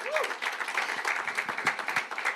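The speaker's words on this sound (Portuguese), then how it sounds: "Dá-lhe uma ofrenda de aplauso para despertar esse irmão" Church congregation applauding as an offering to rouse a fellow brother during a bilingual Portuguese-Spanish service, a steady wash of close clapping for a couple of seconds with a voice faintly over it.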